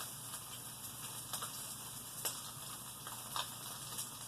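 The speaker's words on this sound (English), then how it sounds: "About a minute on each side will give it a nice sear." A Bleu Wagyu New York strip steak searing in a pan, a soft, even sizzle with a few faint crackles and pops, quiet and steady with no voices.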